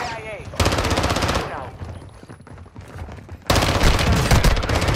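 Bursts of rapid automatic gunfire from a PlayStation shooter video game, a loud sustained volley, a quieter stretch, then another heavy burst, with players talking over it.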